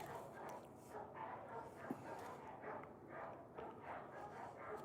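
Dogs barking in the distance, faint and repeated, under a steady outdoor background.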